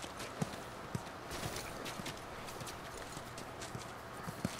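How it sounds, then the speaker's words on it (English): Horse hooves clip-clopping in The Last of Us, quiet irregular thuds under a soft ambient background, with no clear snort standing out. "I guess Ellie wants to stay with the horse."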